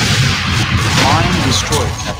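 A space mine blows up in the Starfleet Academy video game, a loud, rumbling blast that fills the whole moment, with game voices talking over it.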